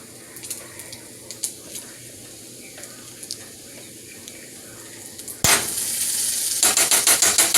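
Butter hits a hot frying pan and breaks into a sudden loud sizzle partway through, a bright steady hiss with pulsing crackles, close by, after quieter kitchen clatter.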